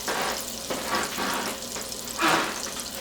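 Half a stick of butter sizzling and melting in a pan for lobster thermidor, a soft steady crackle with gentle stirring swells and a brighter hiss near the end, no talking.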